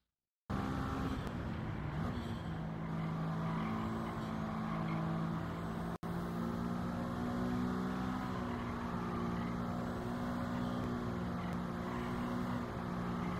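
A race car in Gran Turismo 7 on the Autopolis circuit drops down the gears and then accelerates, its steady droning engine tone rising gradually, heard continuously and alone.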